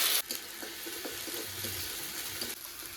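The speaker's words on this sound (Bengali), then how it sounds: "এবার আদা রসুন বাটাটা দিয়ে দেবো আদা রসুনটা করে কষিয়ে দেবো" Ginger-garlic paste sautéing with reddish-browned onions in a hot pan sizzles steadily and close, a continuous hissing fry with faint stirring and no talking.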